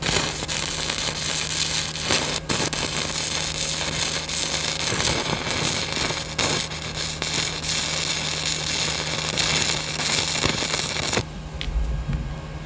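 Stick welding on old trailer metal with a Vevor welder: a continuous loud crackling, sputtering arc hiss runs for several seconds, breaking off near the end.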